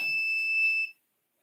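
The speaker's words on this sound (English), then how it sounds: "timer kept going" An electronic timer beeps, a steady high tone that holds for under a second and then cuts off into silence, heard on its own.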